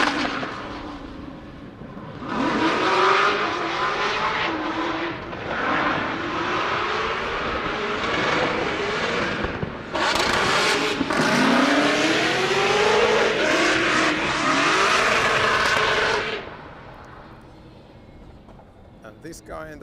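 Drift race cars at a Drift Masters practice session in Spain, engines screaming and revving with rising and falling pitch as they pass near, loud sustained bursts separated by brief lulls before fading away.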